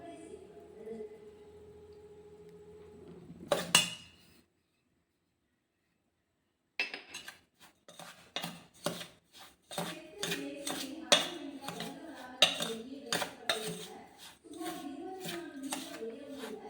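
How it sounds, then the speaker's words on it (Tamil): Rava laddu mix with ghee being stirred together by hand in a bowl, a steady murmur giving way to a run of sharp clinks and scrapes after a short silence. "நம்ம எல்லாத்தையும் ஒன்றா சேர்த்து கலந்துடுவோம்."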